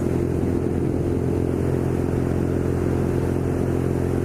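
A BMW R nineT Scrambler motorcycle ridden at a steady pace, its engine a constant low drone mixed with rushing wind noise, loud and unbroken throughout.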